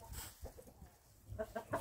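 A rooster on a farm, next to a New Hampshire rooster, gives a few short clucks, faint and fairly close, in quiet surroundings.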